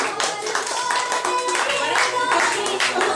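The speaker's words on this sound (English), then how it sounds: "Give her a round of applause, ladies and gentlemen." Clapping for a featured bartender at a comedy variety show, a smaller crowd applauding in brisk, uneven claps, fairly close, with a sustained tone and some voices underneath.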